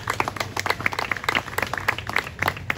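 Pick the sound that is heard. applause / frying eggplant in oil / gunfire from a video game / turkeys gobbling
applause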